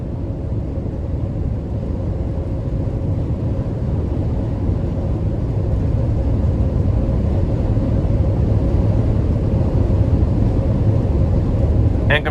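Steady broadband wind and road rumble fill the cabin of a 2021 Sherrod Ram 3500 Promaster conversion van on the move, a constant low roar that holds level throughout with no voices.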